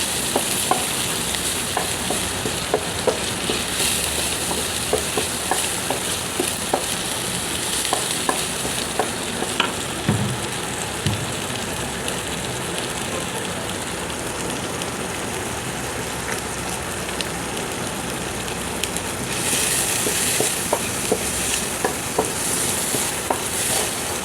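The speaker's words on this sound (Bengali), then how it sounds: "এরপরে তেলে ভেজে নেব সুন্দর করে।" Prawns seasoned with salt and turmeric fry in oil in a wok, giving a continuous close sizzle broken by scattered clicks of stirring, with no voices.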